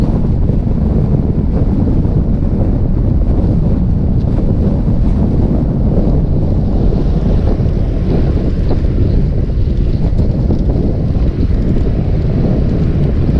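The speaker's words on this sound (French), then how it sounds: "Il y a pas mal de vent." Strong wind buffets the microphone in a loud, constant roar during an electric scooter ride in Toulouse, gusting throughout with no voices.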